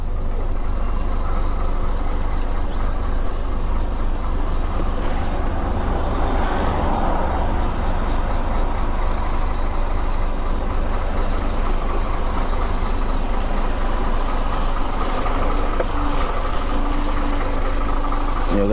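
A truck's diesel engine rumbles steadily and close as the vehicle pulls out of a parking lot, a low continuous drone with faint road noise throughout and no talk.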